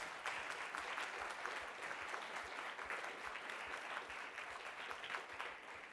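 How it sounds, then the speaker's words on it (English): A museum audience claps for a guest during a talk on the Clapp Family Mastodon, giving a continuous round of soft, evenly spread applause at a distance. "Everybody give him a round of applause."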